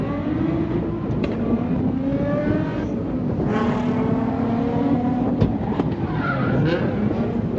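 A Pro Light class drift car skids around an Ultimate Drifting Challenge track. The tires squeal in long sliding tones over a loud, continuous engine roar that rises and falls throughout, close and dominant with no voices.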